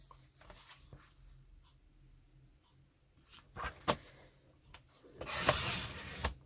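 A paper trimmer slices cardstock for a Stampin' Up Christmas card, heard as quiet rubbing and sliding followed by a brief louder rasping cut near the end, close and without talk.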